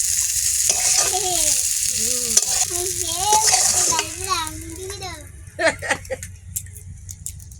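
Koi fish fry in a pan with a steady sizzle and stirring rattle, while a child and an adult talk over the cooking close by.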